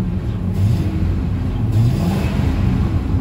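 Ford F-250 pickup truck with a steady, close engine rumble rising in a couple of revs, a dense low drone running throughout with no talk over it.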